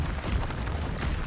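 A Repulso spell blast from the Hogwarts Legacy video game, a dense rumbling boom that holds steady and loud for the whole short stretch without clear breaks.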